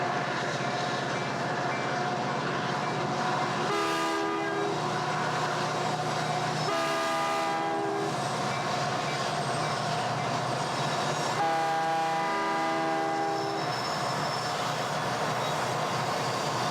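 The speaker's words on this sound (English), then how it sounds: "we see the head end of the coal train as it tops the grade." A coal train topping a grade sounds its horn in three long blasts, with a steady rumble of locomotives and rolling cars running underneath.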